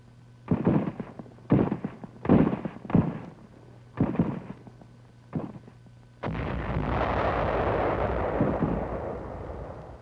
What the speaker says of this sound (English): our troops are brought under small arms and mortar fire